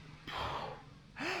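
Recovery breathing during a breath-holding exercise: two fast, forceful inhales through a wide-open mouth, each a short airy gasp, close to the microphone with a brief pause between.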